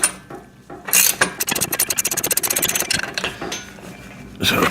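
A ratchet cranks a nut down onto a bushing and washer while a home gym pec deck and rear delt machine is being assembled, producing a fast run of close, sharp clicks between brief handling noises.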